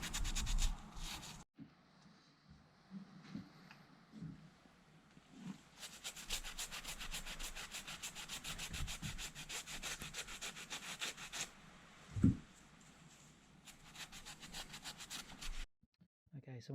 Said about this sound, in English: So once you start getting the oil and grease off of there, you can start at it with a wire brush.